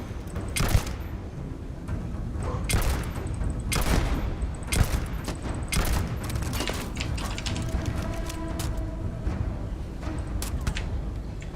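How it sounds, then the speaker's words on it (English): Rapid gunfire from the video game Fallout crackles throughout, with a turret firing nearby: dense, repeated sharp shots in uneven bursts over a steady background din, loud and continuous, with no talking. "I think they're just shooting in my direction now."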